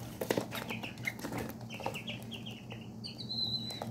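Tiny Serama chicks and pheasant-cross chicks peep in a quick series of high, thin chirps, close and fairly quiet over a low steady hum.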